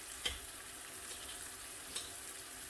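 Chopped tomato goes into a hot frying pan for chilli garlic chicken, raising a steady, faint sizzle broken by a couple of light clacks as it lands and is stirred.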